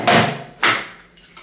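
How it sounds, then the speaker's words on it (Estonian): Items go into a bathroom cabinet drawer, then two sharp close thuds sound nearby, with a lighter knock after them. "Aga ma praegu lihtsalt panen need siia sahtlisse ja siis vaatame."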